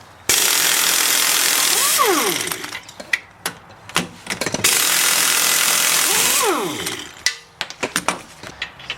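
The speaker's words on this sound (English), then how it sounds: "we're going to remove these two strut bolts" Ratchet wrench working on the rear strut bolts of a 1999 Pontiac Grand Prix: two long bursts of rapid, loud clicking ratcheting close by, each followed by scattered metallic clanks and taps.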